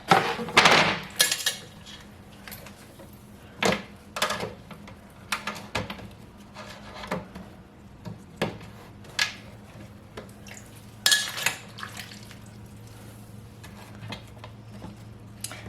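Plastic dehydrator trays for apple chips clatter and knock as they are handled and set in place, a string of sharp close clicks and taps with short quiet gaps between them.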